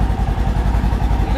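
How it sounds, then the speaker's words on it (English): A 2021 Trail S 1000 motorcycle sits idling with its stock exhaust, a close, loud, even low-pitched chug with rapid regular pulses throughout. "so that's what the stock sounds like"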